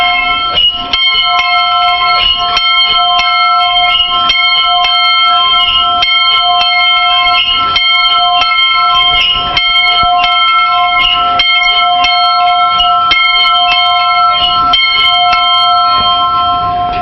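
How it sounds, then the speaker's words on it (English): A welcome bell at a gold mining camp clangs repeatedly in a steady, loud rhythm, its bright ringing tones sustained and overlapping throughout. "He's going to ring the bell for the next group coming down the road."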